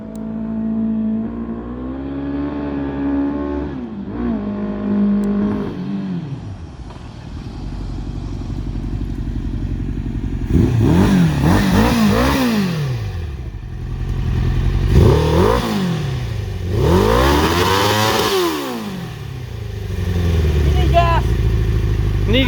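A Suzuki GSX-R750 motorcycle engine idles roughly, then revs up and down in several loud repeated bursts during a test drive, with people talking over it.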